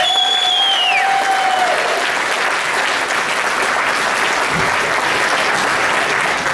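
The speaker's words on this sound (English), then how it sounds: "give a big Prince George welcome and a round of applause for Mr." Loud, sustained applause fills a stand-up comedy venue in Prince George as the comedian is welcomed, a dense continuous wash of clapping, with a brief whistle near the start.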